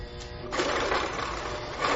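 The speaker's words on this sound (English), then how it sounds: "I like to put it on zigzag stitch, and you do it on a wide stitch, and then you just start stitching." A sewing machine runs a wide zigzag stitch along the edge of a sweater scarf, a close, steady whirring hum that starts up abruptly and keeps going without pause.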